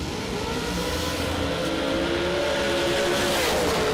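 Dragster race cars launch at a drag strip with a loud, sustained engine roar rising in pitch as they accelerate hard, close and without talk.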